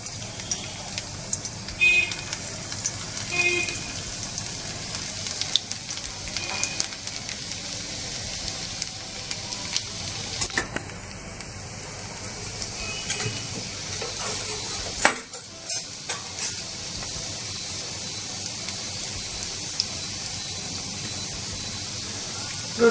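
Chopped garlic sizzles steadily in hot mustard oil as it is stirred in a pan, a close, continuous frying hiss with occasional scrapes and clinks of a utensil, no talking.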